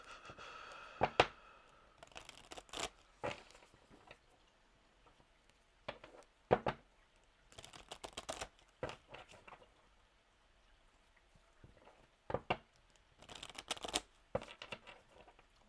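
Crystal-themed cards being shuffled by hand, heard as intermittent papery riffling bursts, some short and some longer, separated by quiet pauses.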